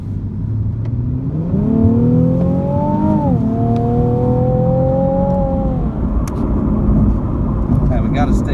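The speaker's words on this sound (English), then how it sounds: "maybe we can let it accelerate around the corner getting back on" A Nissan 370Z Nismo accelerating around a corner: loud, close engine note climbing in pitch through the gears, with a brief dip at a shift, then a steady high drone before easing off near the end.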